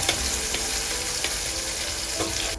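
Salmon patties made with egg and salt sizzle and crackle steadily in a pan, a continuous close frying hiss with a few brief clicks, no voices.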